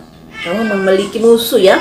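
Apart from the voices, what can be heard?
cat meowing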